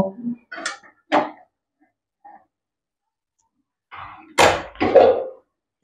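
A lid goes onto a cooking pot of bean and potato curry, with a few short clatters between stretches of silence and speech before and after.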